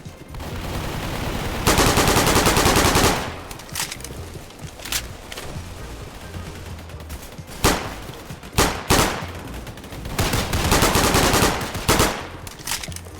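Rapid automatic gunfire from a follower-designed gun in a shooter video game: loud, dense bursts of shots, one long sustained burst followed by several shorter sharp bursts with brief pauses between them.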